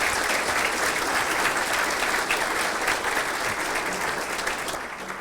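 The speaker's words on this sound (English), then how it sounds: "can we have a huge round of applause for Anup?" Dense, steady applause from a large seated audience at a finance talk on debt versus equity, honouring the speaker Anup; the clapping stays loud and even for the whole stretch, easing slightly at the end with no voices on top.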